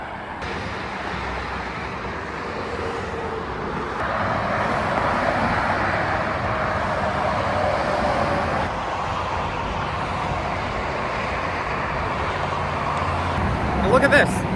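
Steady, dense interstate traffic roars below a footbridge, a continuous loud wash of cars and trucks rushing past, swelling slightly at times, with a person talking over it.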